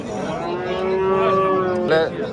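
A cow moos loudly and close by at a livestock market, one long drawn-out low call that rises slightly and ends with a short grunt.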